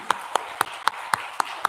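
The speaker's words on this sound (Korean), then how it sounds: "박수하겠습니다" Slow, steady hand clapping from a church congregation at a Sunday morning service, with about seven evenly spaced, fairly faint claps in a quiet room.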